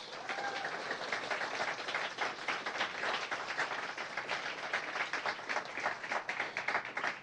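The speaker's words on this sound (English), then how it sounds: "big round of applause." A large audience at a Samsung Solve for Tomorrow reveal event breaks into sustained applause, dense clapping continuing steadily throughout at an even level with no talk over it.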